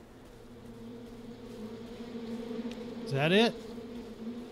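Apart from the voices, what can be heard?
bees buzzing in the video game We Happy Few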